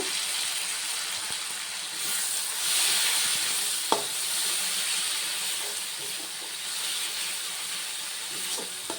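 Ground cumin, coriander and chili paste frying in a pan, a soft steady sizzle with a few sharp clinks of a spoon, fairly close and without talk.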